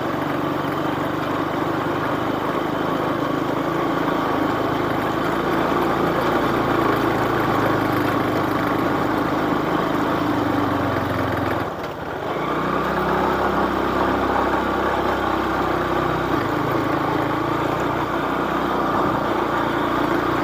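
A Yamaha Verza motorcycle with a slack chain climbing a hill on a narrow footpath, its engine a loud continuous mid-pitched drone that dips briefly midway before resuming.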